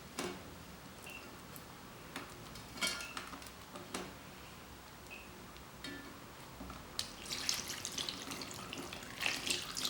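Water runs and splashes into a metal pot holding beeswax, with clinks and knocks of cookware and a louder burst of pouring near the end.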